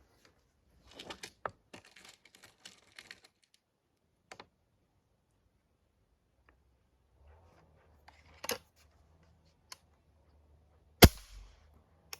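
A few sharp, isolated air rifle shots from a Chaika 14 firing light 0.56 Lumen pellets, with long quiet gaps between them, plus some faint clicking and handling noises early on.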